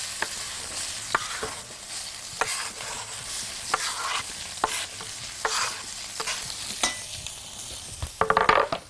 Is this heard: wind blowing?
no